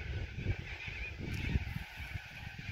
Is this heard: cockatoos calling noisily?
yes